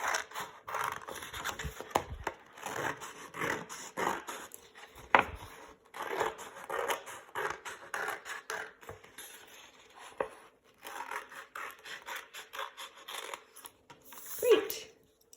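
Scissors snip through a folded sheet of paper along a crease, a run of close, quiet crisp cuts and rustles in a steady rhythm, a brief pause near the middle, then a sharper final snip at the end.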